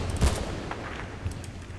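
A sniper rifle fires in Battlefield Bad Company 2, giving one loud, close crack near the start. A fainter shot or impact follows later, set against steady ambient game noise.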